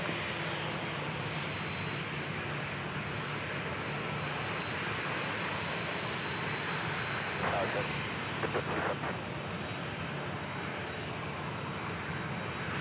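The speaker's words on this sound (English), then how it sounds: "This flight heading to Baltimore, Maryland, at Southwest Airlines flight 1907, the 737-800" Southwest Airlines Boeing 737-800 jet taking off, a steady broad engine roar sustained throughout at moderate distance, with brief radio-style voice chatter around the middle.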